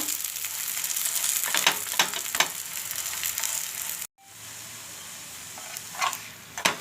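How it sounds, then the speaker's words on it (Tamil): A coconut poli fries in ghee in a pan over a low flame. A continuous close sizzle is broken by several sharp spatula scrapes and a brief gap before it resumes more quietly. "இந்த போலி எடுத்து இப்படி போட்டுக்கலாம். நிறைய கொஞ்சம் நெய் ஊற்றிக்கோங்க."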